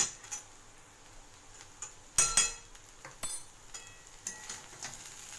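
Spoon clinks and scrapes against a pot while pilaf (chirar polau) is stirred, with several sharp metallic taps and softer rustles spread irregularly, fairly faint, no talking.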